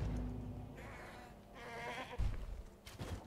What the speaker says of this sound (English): I love the noises these goats make.